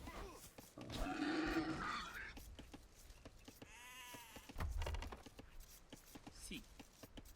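Sheep bleating in a video game, a few quavering bleats heard faintly amid clicking game sounds and a speaking voice.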